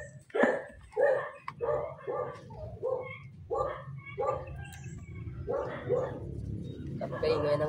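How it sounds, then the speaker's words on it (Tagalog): Several dogs bark in repeated bursts, fairly close and loud, with a steady low background hum and some talk at the same time, outdoors while a motorcycle is being cleaned and waxed. "Ingay yung mga aso dito. Marami kasing aso."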